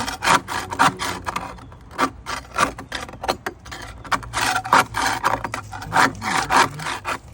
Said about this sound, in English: That's the paint scraper.